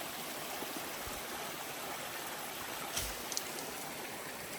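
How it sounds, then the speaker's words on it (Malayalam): A forest stream on a hike near Chimmini dam flows in a steady, soft rushing wash, with a couple of faint splashes near the end and no talking. "ഇതാണ് ഈ അരുവി"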